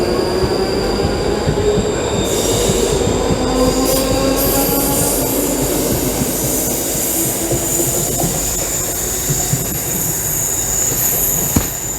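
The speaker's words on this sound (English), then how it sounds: "Here comes the train!" A train pulls into a station with steady rumbling and high, piercing wheel squeal that holds throughout and grows as it slows. It is loud and close, with no talking.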